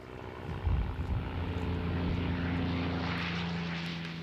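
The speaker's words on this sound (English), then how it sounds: "The F-51s were launched time and time again to keep the North Korean forces in check." F-51 Mustang propeller fighter aircraft droning loudly and steadily nearby, its engine tone holding with a strong low hum and broad roar, no voices over it.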